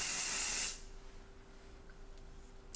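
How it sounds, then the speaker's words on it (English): TRESemmé micro mist compressed hairspray sprays in one short close hiss of under a second, then cuts off into quiet room tone. "So I'm actually gonna go in with this hairspray I'm using."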